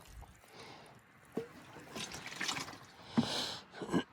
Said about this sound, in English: and then a little water here, soak in